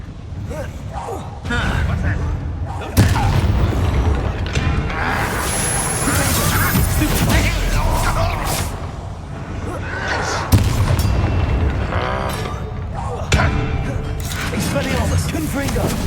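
Combat spells such as Expelliarmus and Confringo cast in the video game Hogwarts Legacy, loud booming blasts and crashing impacts that hit repeatedly over a continuous rumbling game soundtrack, with a man calling out spell names.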